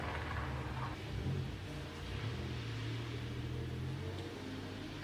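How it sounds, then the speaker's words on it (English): Steady rain outside with cars passing on a nearby busy road: a continuous hiss and low traffic rumble, fairly faint and constant, with no talking. "It's like raining and you can hear like cars going by."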